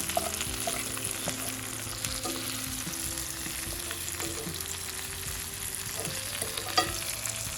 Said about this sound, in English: In time, those onions are caramelizing.